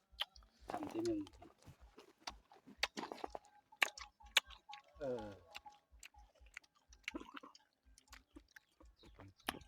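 Someone tastes food, chewing in close, irregular crunchy bites and quiet mouth sounds between bursts of talking.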